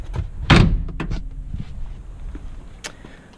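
The rear door of a 1985 Daihatsu Rugger F75 turbo diesel 4x4 opens with a loud latch clunk and a few lighter clicks and rattles, close by, then fades into quiet.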